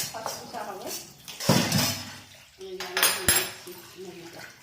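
Pots, a wok and metal utensils clatter and clink in a home kitchen while masala Maggi noodles are cooked, with sharp scattered knocks and a couple of louder clanks spaced across a few seconds.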